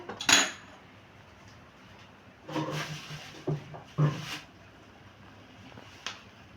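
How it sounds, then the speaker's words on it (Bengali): A metal wok set down on a stove while cooking a date chutney, heard as a few sharp metallic clanks and knocks spaced over several seconds, close by, with quiet gaps between. "এবারে আবারও আমি কড়াইটা বসিয়ে দিলাম"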